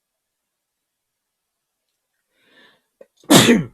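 One sharp, close sneeze bursts out after a brief quiet, preceded by a faint breath and a short murmured word.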